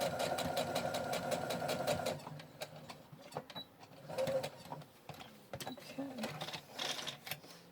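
A sewing machine stitches a bear's foot pad, its rapid mechanical chatter running steadily up close for about two seconds, then giving way to softer intermittent clicks and handling noise while a person speaks briefly.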